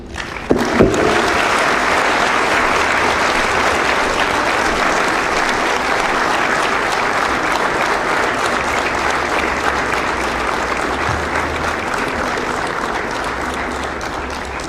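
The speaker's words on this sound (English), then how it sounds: "Another round of applause, please." A large audience applauds after a powerful speech by Professor PLO Lumumba in Zambia, loud dense clapping that starts abruptly and holds steady for the full length without speech.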